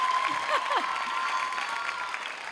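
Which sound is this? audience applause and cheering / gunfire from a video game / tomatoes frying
audience applause and cheering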